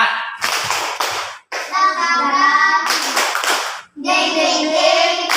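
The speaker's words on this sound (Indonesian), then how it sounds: "Tepuk semangat." Group of children clapping a rhythmic spirit-clap routine during an ice-breaking game, bursts of sharp claps in quick patterns separated by short pauses, with young voices chanting along.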